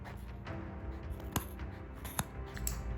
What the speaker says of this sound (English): Let's use the big guns, medical scissors.